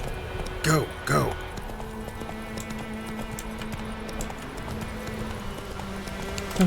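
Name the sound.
horse hooves galloping, from a video game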